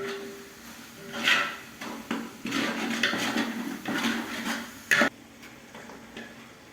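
Masala spices being stirred into onions in a pot for chicken biryani, with a spoon scraping and knocking against the pot in irregular bursts, close and moderately loud, with no talking.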